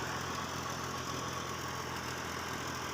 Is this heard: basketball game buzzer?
no